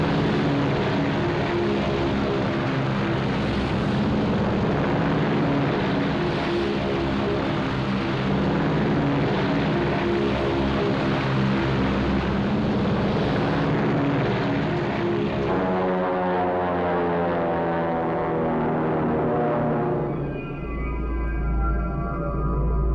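Propeller engines of WWII carrier aircraft drone continuously as planes launch from the carriers Hornet and Enterprise, a dense, loud rumble that holds steady before a higher engine tone rises near the end.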